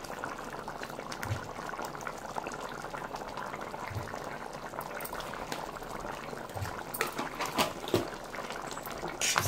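Pumpkin pieces simmering in a sweet and tangy stew on a stove, a steady low bubbling with soft pops and a few clinks near the end.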